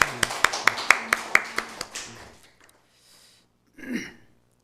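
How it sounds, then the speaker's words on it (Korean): In a church, the congregation gives a short burst of crisp, evenly paced claps about ten times in quick succession, then quiet follows with a brief faint voice near the end. "우리 박수로 환영을 하도록 하겠습니다."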